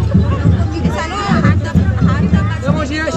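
Shoppers crowd a utensil stall at the Shimga festival market in Kalambaste village, Konkan, their mingled voices forming a loud, unbroken babble with occasional nearer speech rising out of the mass.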